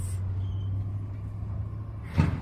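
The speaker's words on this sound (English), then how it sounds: "Really, the trash truck is here." Outside, a trash truck idles with a low steady rumble, then its air brakes give a short sharp hiss near the end, moderately loud and at some distance, with no voices.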